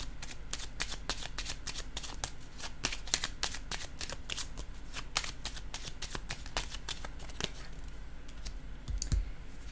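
Tarot cards are shuffled and laid down in a rapid, steady run of crisp riffling flicks and soft slaps, close and clear, with no talking.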